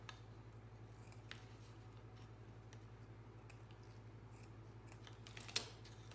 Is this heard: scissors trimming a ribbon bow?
yes